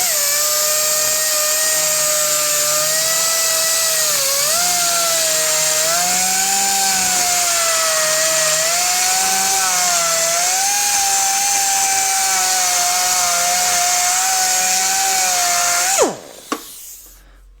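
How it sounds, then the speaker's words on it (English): A die grinder works on a mountain bike frame, a loud, continuous high-pitched whine whose pitch sags and recovers as it bites into the metal for about sixteen seconds, then stops abruptly. "To the die grinder. As they say, when in doubt, grind it out"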